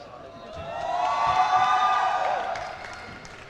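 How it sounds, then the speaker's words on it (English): A crowd at the ABU Robocon 2023 India robotics competition in New Delhi cheers for its team, a broad roar that swells over a few seconds and then fades. "Cheers from the crowd supporting their team"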